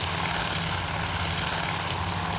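Torpedo bomber aircraft engines droning in a naval battle video game set at the Coral Sea, a steady, loud propeller roar holding constant with no voices.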